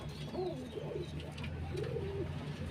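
Large female pigeons in a loft coo in two or three soft, warbling phrases, moderately close, over a low steady hum.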